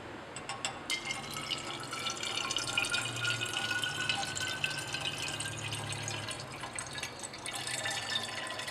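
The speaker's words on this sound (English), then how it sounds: "set up the separating funnel and pour it in." Liquid chemical mixture poured into a glass separating funnel, a steady soft trickle and splash lasting several seconds, close and fairly quiet with no talking.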